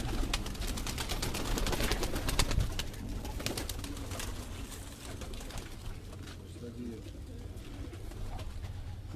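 Old pigeon cooing, soft repeated coos over a busy background of rustling, clicks and handling noise, fairly close and moderately quiet.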